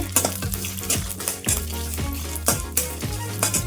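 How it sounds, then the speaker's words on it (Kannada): Six dried red chillies fry in a pan for bitter melon chutney powder, giving a steady loud sizzle with regular scraping stirs and utensil clinks against the metal, no voices. "ಆರು ಒಣಮೆಣಸಿನ್ಕಾಯಿ ಹಾಕ್ತಾ ಇದ್ದೀನಿ ಅದನ್ನು ಫ್ರೈ ಆಗಲಿ"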